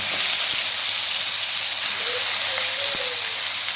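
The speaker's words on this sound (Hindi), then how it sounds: "अब हम इसमें ऐड करेंगे अपना मटन।" Mutton hits hot oil in a pan for karahi, a steady, close broadband sizzle that stays constant throughout, with a faint utensil clink.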